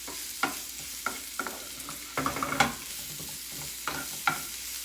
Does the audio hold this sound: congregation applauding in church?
no